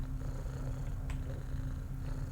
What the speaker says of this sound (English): must be really comfy if you're purring that much.